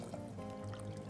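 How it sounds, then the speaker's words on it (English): Water pours into a pressure cooker holding field beans in a home kitchen, a quiet steady trickling stream heard close by without talk. "Add in water and allow this to pressure cook."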